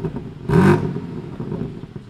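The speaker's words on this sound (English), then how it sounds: "we're gonna give you some exhaust revs right now" A car exhaust fitted with a Dahler valve controller, valves opened, gives one short loud rev that bursts up and fades within a quarter second, then settles into a lower rumbling idle.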